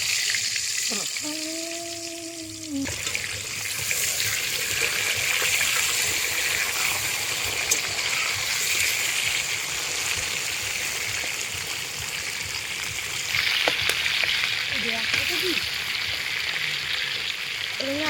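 Water goes into a pan of frying potatoes and spices for biryani, bringing a loud, continuous bubbling sizzle up close after a short stretch of faint voice and tonal sound.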